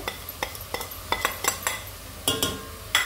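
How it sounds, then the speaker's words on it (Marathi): Masala powders and spices sautéing in oil for mutton biryani, with sharp metal spoon scrapes and clinks against the pan recurring irregularly over a soft sizzle, close and fairly quiet. "आणि सगळं व्यवस्थित असं तळून घ्यायचं तेलामध्ये"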